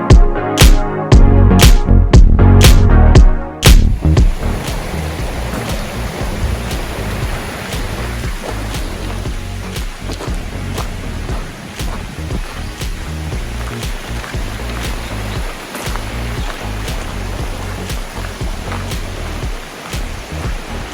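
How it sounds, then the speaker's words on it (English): Waterfalls rush steadily beside a trail bridge on the way to the Middle Prong Trailhead. The water makes a continuous broad roar that follows a few seconds of loud knocking at the start. "And look at the waterfalls."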